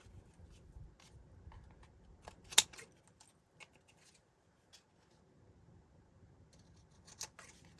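Paper cards from a recycled note pad are being trimmed, giving a few quiet, scattered snips and light paper rustles separated by near-silent gaps, with one sharper cut standing out.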